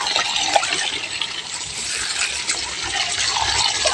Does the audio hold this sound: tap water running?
yes